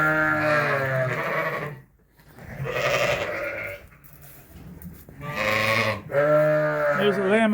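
Lambs and sheep bleat inside a barn, several loud, wavering calls coming close together in bursts with short pauses between them, and no speech over them.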